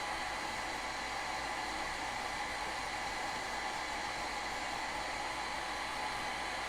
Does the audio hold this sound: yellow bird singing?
no